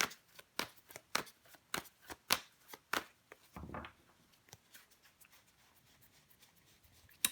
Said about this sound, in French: On va recouvrir des cartes.